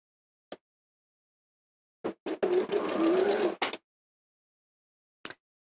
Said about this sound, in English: And sew straight across the top.